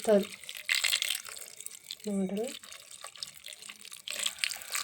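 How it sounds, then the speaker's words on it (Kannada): Water is poured onto crushed jaggery in short splashing bursts, near and fairly quiet, between brief bits of a voice talking. "ಇದಕ್ಕೆ ನೀರು ಎಷ್ಟು ಹಾಕ್ಬೇಕಂದ್ರೆ ಒಂದು ಬೆಲ್ಲ ಮುಳುಗೋಷ್ಟು"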